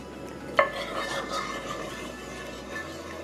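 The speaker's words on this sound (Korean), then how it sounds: "참기름 두 스푼을 넣으시고 파 먼저 볶아줍니다." Sesame oil goes into a pot and green onion is stir-fried in it, giving a sharp clink of utensil against pot followed by soft, steady sizzling and scraping at close range.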